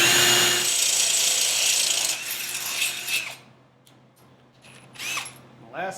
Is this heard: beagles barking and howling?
no